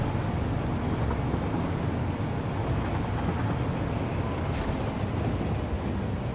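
A train rolls steadily through the factory-building game Satisfactory, a continuous low rumble and rushing drone that holds at a fairly loud level throughout, with a brief brighter burst near the end and no talking.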